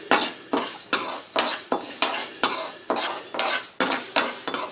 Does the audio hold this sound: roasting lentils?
yes